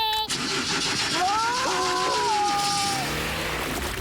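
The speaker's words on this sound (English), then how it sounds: "OK, Mr. Zyros, give it a bit of gas" A cartoon car engine is revved with gas, sputtering into a rising, wavering whine that then drops in pitch, over steady background noise.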